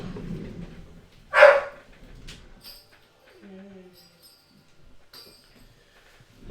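Dogs shut away in a closed-off room while a kitchen floor is mopped give one short, sharp bark, followed by faint whimpering sounds and quiet household noise.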